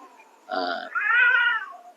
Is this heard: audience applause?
no